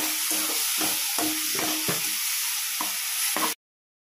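Onion, ginger and garlic paste fries loudly in a pan with a steady broadband sizzle, broken by repeated stirring scrapes in an irregular rhythm, no voices, ending abruptly in silence.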